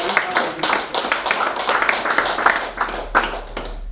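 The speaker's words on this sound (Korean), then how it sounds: "이 시간 한번 박수로 감사합니다." A congregation claps in thanks during a Christmas thanksgiving church service, a dense, steady wash of many hands with bursts and swells lasting throughout and fading toward the end.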